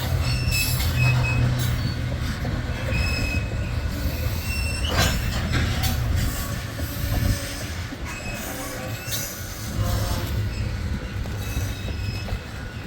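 A BNSF freight train rolls past near the track with heavy rumbling, rhythmic wheel clatter and high metallic wheel squeals rising and fading throughout, loud and steady with no talk.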